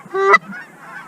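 A single loud, close Canada goose honk rings out during a late-season hunt, a short nasal call followed by fainter goose chatter.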